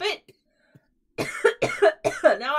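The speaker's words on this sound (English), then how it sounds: "Now I gotta cough. I gotta cough because I did that stupid yell." A single person coughs, two short faint coughs and then a longer burst of hoarse, strained coughing close up after yelling during a birthday game session.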